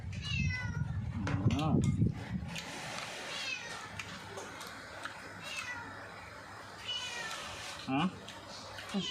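A cat meows several times nearby, with a person talking over and between the meows.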